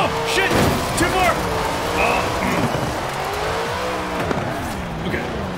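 A race car in a video game played with a Thrustmaster wheel, its engine droning and shifting pitch with brief tire squeals, loud and steady under excited talking.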